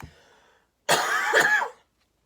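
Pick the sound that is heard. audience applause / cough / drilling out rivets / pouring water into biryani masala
cough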